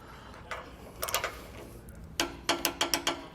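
Wrench ratchet on Jeep Wrangler base plate bolts: quiet clicking bursts, a few short ones early then a fast rhythmic run of five or six loud ticks near the end.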